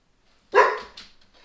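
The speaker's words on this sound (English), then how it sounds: "And here's my dog coming in." A single sharp bark from a dog coming into a kitchen, loud and close, followed by a softer second yip, with near silence around it.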